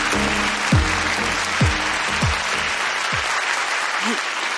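Audience applause at the Miss Grand Japan and Mr Gay Japan 2022 pageant final, steady broadband clapping throughout with a few low thumps and faint voices beneath.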